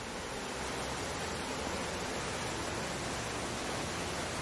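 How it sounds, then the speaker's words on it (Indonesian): Sebangkoi waterfall in Taman Sebangkoi park, Sarikei, gives a continuous, dense rushing roar of falling water, steady and even throughout, with no voices. "Sekarang sudah sampai di air terjun Sebangkoi."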